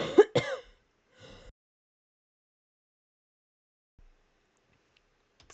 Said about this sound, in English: I'm pretty sure y'all don't want to hear me cough into the thing